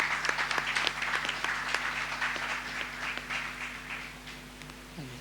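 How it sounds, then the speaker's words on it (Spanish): Audience applause at a talk, a steady wash of many hands clapping at moderate distance, sustained for several seconds and slowly tapering toward the end. "Le damos un fuerte aplauso también."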